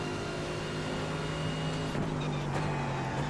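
Mercedes AMG GT3 engine in the iRacing video game, braking at Silverstone and downshifting to third gear, a steady mid-level motor drone with brief pitch shifts near the end.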